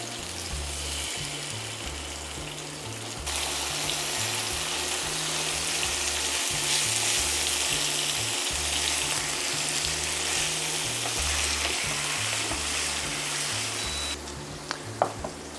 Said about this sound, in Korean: 두부가 이제 구워지는 동안에